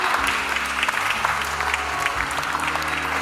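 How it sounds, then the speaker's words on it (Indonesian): A crowd of wedding guests at a church blessing ceremony applauds the groom, a steady, full clapping from many hands that stays even and loud throughout. "Mari kita berikan aplaus bersama untuk mempelai pria."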